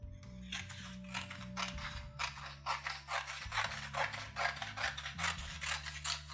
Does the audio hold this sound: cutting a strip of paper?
yes